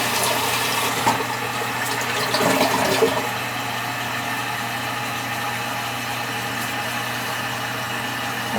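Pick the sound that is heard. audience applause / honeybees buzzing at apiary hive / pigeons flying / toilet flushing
toilet flushing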